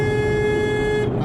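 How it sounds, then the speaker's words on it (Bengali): A car horn blares in one long, steady, loud honk close by during a driving lesson on the road. The tone holds evenly over engine rumble and cuts off just at the end. "হর্ন দাও, হর্ন দাও"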